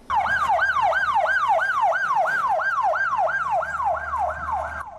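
A loud ambulance siren wails in a steady, fast rising-and-falling pattern, close by, with a faint engine hum underneath.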